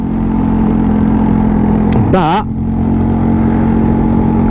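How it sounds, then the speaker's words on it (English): A Royal Alloy GT125 scooter fitted with a loud Tasso exhaust idles in a steady droning rumble, briefly blipping up in pitch midway, with someone speaking over it. "This has got a Tasso exhaust on it, so hence why it sounds so loud."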